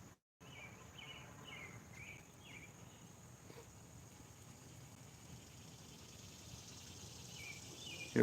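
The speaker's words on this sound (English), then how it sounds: "you hear the cicada bugs?" Cicadas buzz outdoors beside a morning firepit, a faint, steady insect drone with repeated short chirping pulses, continuous in the background with no talking.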